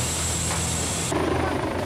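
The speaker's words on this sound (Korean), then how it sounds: "경기도 수원의 한 대학병원 마당에 소방 헬기가 등장했습니다." A fire rescue helicopter sits in the yard of a university hospital in Suwon, Gyeonggi Province, producing a loud, steady rotor and engine roar that fills the whole clip and shifts slightly partway through.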